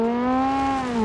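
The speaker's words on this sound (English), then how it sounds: "you need to keep the engine revving high so you can keep the turbo" A rally car engine in the BeamNG.Drive driving game revs high and steady, holding a strong, buzzing, turbo-boosted tone at close range for about a second, with no voices over it.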